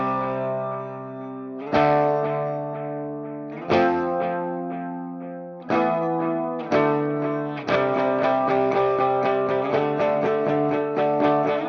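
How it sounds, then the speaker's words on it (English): Electric guitar through the lo-fi delay setting of an ML Sound Lab ML800 amp plugin, with Marshall-style tone: ringing chords with echoing repeats, first spaced every couple of seconds, then faster strummed chords, played alone. "the last one, which is a lo-fi delay, which I can only imagine sounds like a radio effect"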